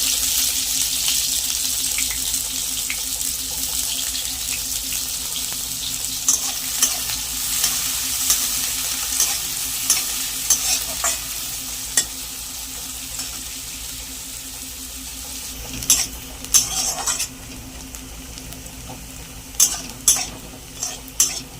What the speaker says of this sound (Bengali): একটু পেঁয়াজ কুচি আর রসুন কুচিটা দিয়ে লাল লাল করে একসাথে ভাজবো।